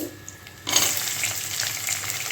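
Sliced garlic and onions hit hot oil with a sudden loud sizzle that starts after a quiet moment and then holds as a steady, bright crackling hiss.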